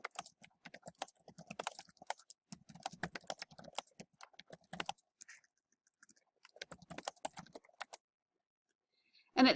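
Close, quiet keystrokes on a computer keyboard come in quick bursts with short pauses as a question is typed into an e-learning course builder, followed by a brief click at the end.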